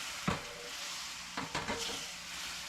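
Cherry wine and lemon juice hit a hot fish pan, bursting into a sharp sizzle with a few stirring scrapes, then a steady hiss that carries on close and fairly loud with no talk.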